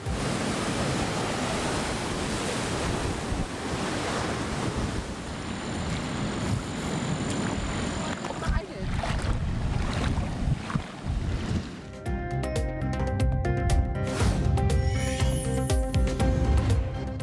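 Rough seawater driven by Hurricane Erin surges into a North Carolina town, a constant loud wash of surf and gusting wind, giving way to music near the end.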